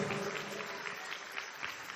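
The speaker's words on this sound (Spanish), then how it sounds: "Dele un aplauso al Señor con todo su corazón" A church congregation applauds with a soft, continuous patter of many hands, heard fairly faintly and at a distance.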